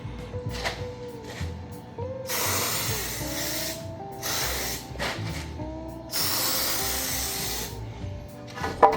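A spray nozzle held straight sprays water in several long bursts at a concrete plumbing job, a broad close hiss that starts and stops with pauses between, with faint clatter underneath.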